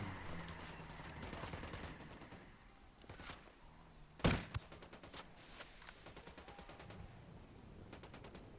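Gunfire in the video game Ghost Recon Wildlands, with rapid automatic bursts, scattered single shots and one sharp, loud report standing out from quieter background game sounds.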